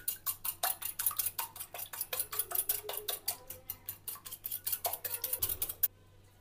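A spoon rapidly beating eggs, milk and ghee together in a bowl for an Afghani dates recipe, steady quick clinking strokes in an even rhythm that stop abruptly near the end, with no talking.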